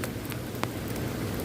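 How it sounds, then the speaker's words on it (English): Steady rain pours down outdoors, a dense, continuous wash of hiss with a few faint drip ticks, loud throughout. "the rain is really coming down now"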